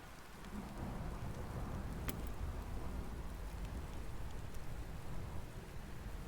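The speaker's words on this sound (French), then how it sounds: "je vais attendre que l'orage passe parce que il est violent" A violent thunderstorm with steady, dense rain and rumbling thunder, a continuous heavy wash of sound with no talking.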